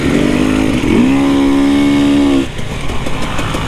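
A Husqvarna TPI two-stroke motorcycle revving hard during a wheelie, a loud, close, buzzing engine note that climbs, holds high, then drops off as the throttle closes.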